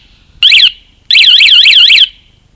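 A Tech7 125dB motorcycle alarm sounds its finder function: two very loud, piercing electronic warbling bursts, a short one then a longer one, close up with no talk.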